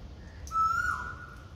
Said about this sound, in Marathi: कोकिळेचा आवाज बघा किती छान